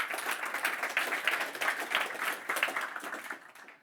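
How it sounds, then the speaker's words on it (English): An audience at a web development conference talk on HTML semantics claps for the incoming speaker. Scattered hands give a lively, moderately loud round that thins out and fades toward the end. "So give her another round of applause,"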